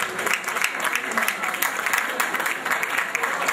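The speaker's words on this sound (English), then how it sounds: "you can make a very loud round of applause for them" Loud, steady round of crowd applause for a couple celebrating their golden jubilee anniversary at a celebration event, dense clapping sustained throughout with no break.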